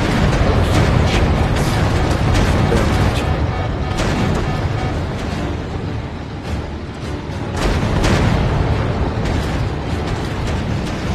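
Dense, continuous roar of explosions and booms in a Warplanes VR flight combat game over the Pacific as the plane takes a hit, loud and sustained with bursts swelling around the fourth and eighth seconds.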